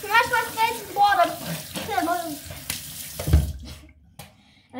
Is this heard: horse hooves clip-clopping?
no